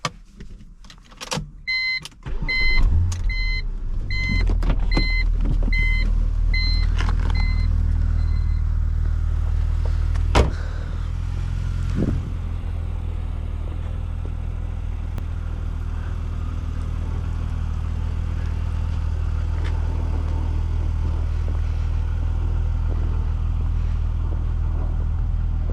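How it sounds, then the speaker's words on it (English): A 2006 BMW Z4 3.0si starts up with a few sharp clicks and chimes, then the engine catches and settles into a loud, steady, low idle that continues unbroken. "let's get her started up"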